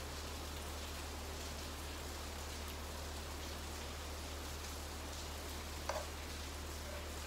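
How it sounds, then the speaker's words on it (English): Steady rain hisses evenly and fairly faintly on outdoor surfaces, a continuous wash with no break and no talking. "And now it's raining."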